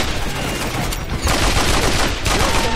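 AK rifle fire in Mercenaries 2: World in Flames, dense continuous bursts of loud automatic gunfire filling the clip with no pauses.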